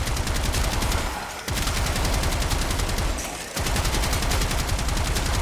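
Gotva Prime rifle in Warframe firing in long rapid automatic bursts, loud and continuous, with two brief pauses between sustained streams of shots.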